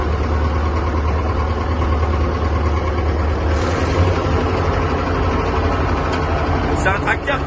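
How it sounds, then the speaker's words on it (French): An old Someca tractor engine runs with a loud, steady low rumble, close and continuous, with a brief mechanical rattle near the end. "C'est un tracteur qui marche vraiment bien. Pour un Someca, les tracteurs sont assez vieux."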